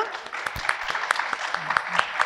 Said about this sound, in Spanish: Perfecto, vamos a darles un fuerte aplauso